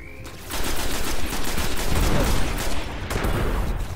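Gunfire in the video game Destiny erupts after a short quiet opening, with dense rapid shots in a loud sustained burst that runs to the end.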